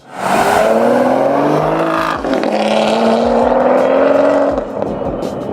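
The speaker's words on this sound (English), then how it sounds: "And then a CGT pulling out" A Porsche Carrera GT supercar pulls out at the Blenheim Palace classic and supercar show on a wet day, its loud, close engine note rising in two strong revving pulls as it moves off.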